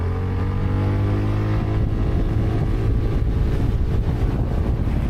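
A ZONTES 368G motorcycle accelerates in S mode, a steady engine drone rising beneath heavy rushing wind noise throughout.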